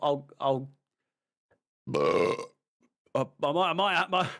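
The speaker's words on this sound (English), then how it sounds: "might not be able to hold back the burps." A man burps loudly and close up several times during a live Manchester City vs Aston Villa football watch-along stream. The throaty belches come in separate bursts with quiet gaps between them.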